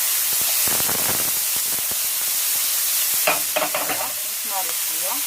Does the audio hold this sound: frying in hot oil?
yes